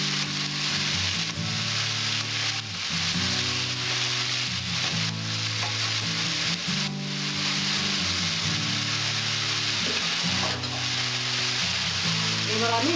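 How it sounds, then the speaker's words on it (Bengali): Steady, loud frying hiss from a pan of bottle gourd curry seasoned with salt and turmeric, with occasional stirring clicks and a faint droning hum underneath. "অল্প একটু হলুদ দেবো। এবার একটু নাড়াচাড়া দেবো।"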